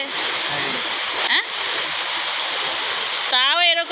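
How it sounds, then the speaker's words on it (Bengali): Rainwater pours out through a pipe during ongoing rain at a flooded house yard, a steady rushing, splashing flow heard close and continuous, with a short voice-like sound near the end. "এখনও নামতেছে বৃষ্টি ওই পাশে একটা পাইপ দিয়ে আছে পাইপ দিয়ে পানি যাচ্ছে"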